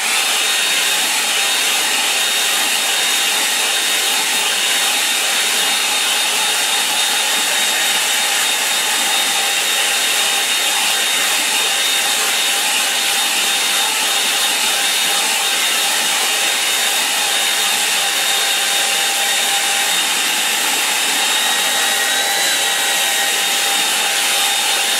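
A hair dryer blows steadily on a wet painting of an evening lake scene, a loud, continuous whirring hiss with a faint high whine that runs unbroken throughout, heard alone without any talking.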